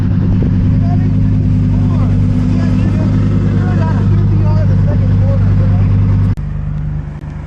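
A Lamborghini Huracan RWD EVO Spyder racing a stage 2 BMW M340, its engine droning steadily loud from inside the car, then shifting abruptly near the end, with voices talking over it.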